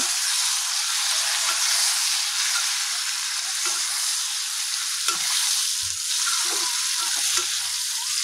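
Tomatoes dropped onto fried red chilies in a hot pan give a loud, steady sizzle throughout, with a few low clunks of stirring.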